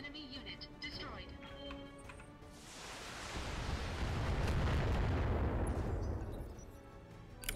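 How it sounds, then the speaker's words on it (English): Autocannon fire and explosions in the video game BattleTech, a dense booming blast building into a long roaring rumble that swells and fades, loud over game sounds. "there's a very, very good chance we'll destroy it with auto cannons"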